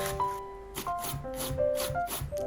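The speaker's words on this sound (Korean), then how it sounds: "깻잎, 줄기 부분 제거하고 채 썰어줍니다" Perilla leaves with the stems removed are sliced into thin strips with a knife on a cutting board, a quick series of close, crisp chopping taps.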